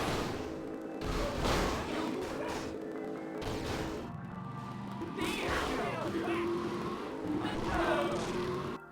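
A showcase car is driven through a shopping mall in a video game, its engine revving amid crashes and impacts over a continuous din, loud and busy throughout.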